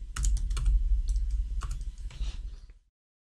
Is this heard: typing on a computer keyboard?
yes